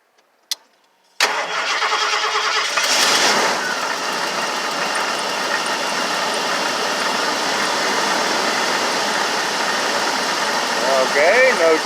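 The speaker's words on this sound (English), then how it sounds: "Josh, go ahead and start the engine, please." A car engine cranks and catches after a short click, then settles into a steady loud idle that runs on to the end, with faint voices near the close.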